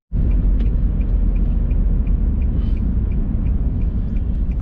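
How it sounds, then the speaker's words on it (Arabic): A Nissan Altima on a test drive after front suspension and stabilizer-link repairs gives a steady, loud engine and road rumble from inside the cabin, with a faint regular ticking throughout and no talk. "الحين نطلع بالسيارة لفة ونشوف كيف الوضع"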